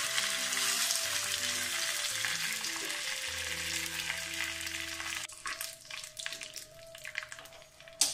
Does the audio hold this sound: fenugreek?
yes